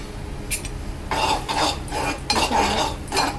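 Spoon stirring and scraping drumstick and potato masala with tomato puree in a pan, a series of clinking, scraping strokes over a low background hiss, no voices.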